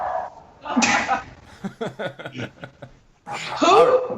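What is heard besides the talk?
sneeze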